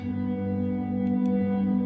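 A sustained cinematic guitar chord from the Audiomodern Opacity II library rings out with a lush, washed reverb tail, steady and full for a couple of seconds.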